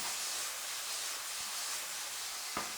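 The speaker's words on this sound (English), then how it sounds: "you can hear it sizzling" Skillet chicken with andouille sizzles in a pan, a steady broadband hiss throughout with a couple of faint knocks, no voices.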